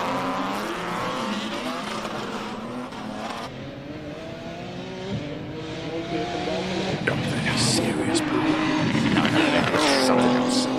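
A race car at the Simola hillclimb runs hard up the course, its loud engine note rising and falling through gear changes and building toward a closer, louder pass near the end.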